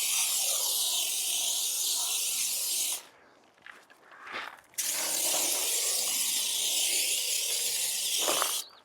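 A foam cannon sprays a mix of car shampoo and leftover wheel cleaner in a loud, steady hiss, pausing for about two seconds before resuming another sustained burst, close and without any talking.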